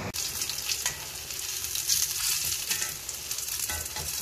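Stuffed spiny gourd (kakrol) fries in hot oil in a pan, giving a steady, close, hissing sizzle with a few soft crackles and no talking.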